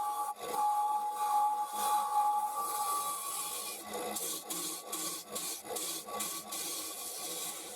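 A mid-size finishing tool makes repeated scraping, rasping passes on a turned wooden flower spinning on a lathe, a steady whirring hum underneath with short rhythmic bursts toward the end, close and fairly quiet.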